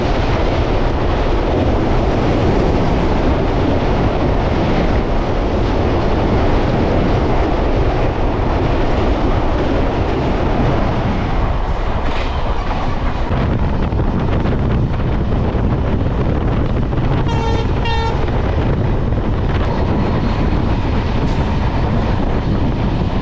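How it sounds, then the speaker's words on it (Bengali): Dooars Vistadome tourist train rolling fast through tea country, a loud unbroken rumble of wheels and rushing wind, with a brief metallic squeal midway. "চাপড়ামারি ফরেস্ট ক্রস করার পরে কিন্তু ট্রেনের গতিবেগ কিন্তু বেড়ে গেল।"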